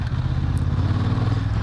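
A Honda CB750 Hornet's parallel twin engine idles with a steady, smooth low thrum, close and continuous through the whole moment with a faint mechanical clatter on top.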